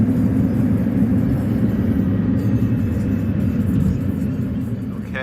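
Steady low rumble of a Grab taxi car on the road from Singapore airport, an even in-cabin engine and road drone that holds at moderate loudness throughout with no voices.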